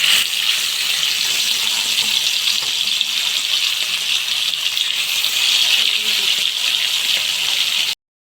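Fish fries in hot oil in a wok, a loud, steady hiss of sizzling that holds evenly for about eight seconds before cutting off abruptly.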